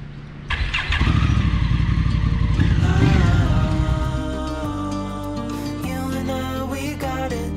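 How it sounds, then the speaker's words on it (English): A motorbike engine cranks and catches on Koh Lanta, Thailand, then settles into a loud, close idle with a rough steady rumble. "Let's now take the motorbike"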